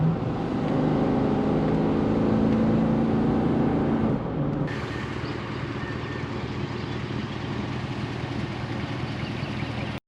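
A 2014–2017 GMC Sierra pickup truck drives along the road, a steady engine and road rumble filling the cabin, loud for the first four seconds and then slightly softer and even to the end.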